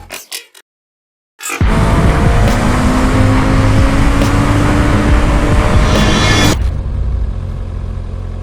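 A 2019 Kawasaki Ninja ZX6R motorcycle starts with a brief burst, goes quiet for a moment, then roars loudly and steadily up close before the engine note drops to a lower, sustained hum.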